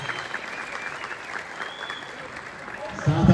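Steady applause from an audience at the premiere of the film Tsehay, a dense wash of clapping that swells louder in the final moments.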